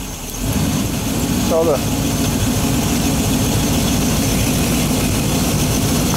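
A Chevy 350 V8 runs steadily on an engine stand during break-in, a loud continuous low rumble from start to finish, with someone speaking briefly over it.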